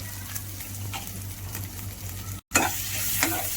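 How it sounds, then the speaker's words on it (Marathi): A spoon works through raw green banana vada batter seasoned with fresh coriander and salt, giving steady wet squelching and scraping. One brief pause falls in the middle before the mixing resumes, with no voices. "चांगला मिक्स करून घेऊया"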